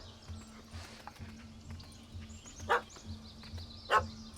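Dog barking in The Witcher 3: Hearts of Stone, two sharp barks about a second apart over steady ambient game background noise, no talk.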